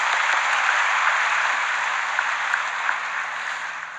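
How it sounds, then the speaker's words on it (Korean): A church congregation claps in thanks for the choir, a steady even wash of applause from a roomful of people, held at constant strength throughout. "우리 한번 감사의 박수"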